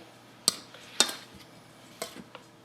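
Dry cookie ingredients with lemon zest stirred in a bowl, a few sharp clinks of a utensil against the dish among softer scraping, close and quiet.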